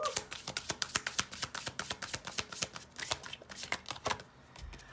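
Tarot cards being shuffled by hand in rapid riffling bursts of crisp paper snaps and taps, a dense steady rhythm for several seconds before settling into a quieter pause near the end.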